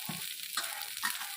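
Onion fries in oil in a pan with a steady, close sizzle, broken by a few soft stirring scrapes. No voices are heard.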